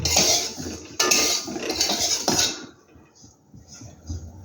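Flour snacks dry-fry in a wok with no oil, as a metal utensil scrapes and clatters against the pan in loud, rough strokes, then fades to quieter, sparse stirring.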